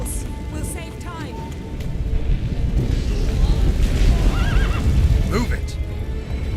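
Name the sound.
horse neighing in video game The Witcher 3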